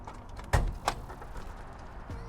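A solid thud as the door of a 1987 Buick Grand National T-Top shuts, followed by a lighter clunk, heard up close without any talking.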